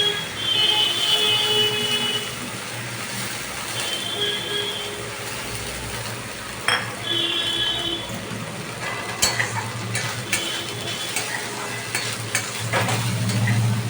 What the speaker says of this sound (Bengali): এবার একটু নেড়ে চেড়ে ভালো করে একটু ভাজা ভাজা মতো